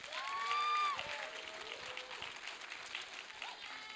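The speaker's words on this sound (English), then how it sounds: "Big round of applause, please." An audience applauds steadily at a high school winter concert, a continuous patter of clapping with a voice speaking over the start.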